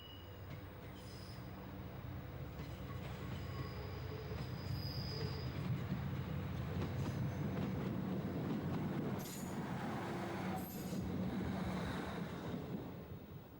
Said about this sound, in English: An Aberdeen-bound train leaves the station